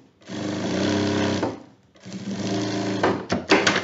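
Sewing machine stitching a backpack lining, two close, loud bursts of whirring motor and rapid needle chatter separated by a short pause, ending with a few clicks.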